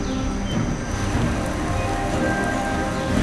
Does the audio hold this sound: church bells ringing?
no